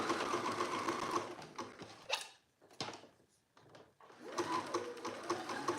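Sewing machine top stitching a sweatshirt, close, with rapid whirring mechanical stitching runs that stop briefly in the middle, then a few short bursts and a pause before a steady run resumes.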